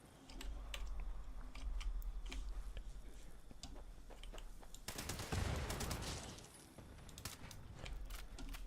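Gunfire in Fallout 76 aimed at a bug, a steady crackle of rapid shots with a louder, denser burst in the middle, fairly faint overall.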